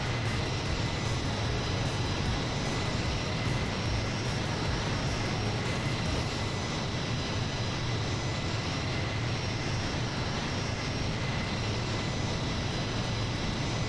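A Dark Star jet passes by in Microsoft Flight Simulator, a loud, steady, broadband engine roar that holds at full strength for the whole stretch with no speech over it.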